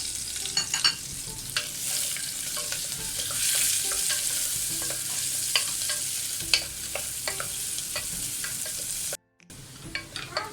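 Steady, lively sizzling of coconut pieces and shallots frying in oil, with scattered clicks and scrapes of stirring throughout and a brief dropout near the end.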